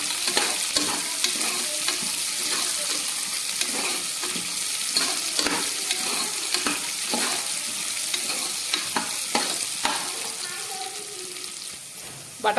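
Soaked peas tossed with onions and carrot sizzle and fry steadily in a pan for tomato coriander rice, with frequent stirring scrapes and clicks over a constant hiss.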